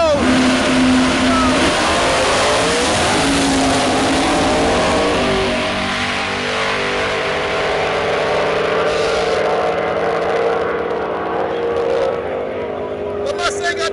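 Small-block drag racing cars, the Bud Light Coupe and Midnite Olds, roar down the strip with a loud sustained engine drone that shifts in pitch, heard under an announcer talking and crowd noise.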